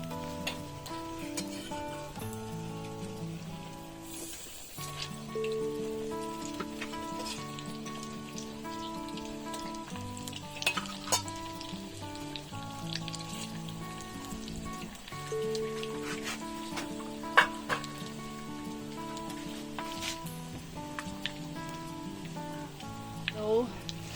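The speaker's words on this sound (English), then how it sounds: "Gently I put it in the hot oil." Food sizzles and crackles in hot frying oil at a low, steady level, with occasional louder pops, mixed under background music.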